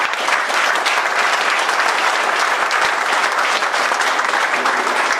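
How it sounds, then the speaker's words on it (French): An audience at a speech claps steadily, a dense, even wash of applause that stays loud and close for several seconds with no talking over it. "des gens comme Ellie Stevenson, que je vous demande d'applaudir s'il vous plaît."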